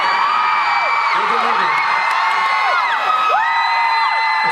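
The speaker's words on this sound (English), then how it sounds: "Let's hear some more screaming." A large convention-panel crowd at San Diego Comic-Con screams, whoops and cheers continuously, with high shrill voices rising and falling in a dense, loud wall of sound throughout.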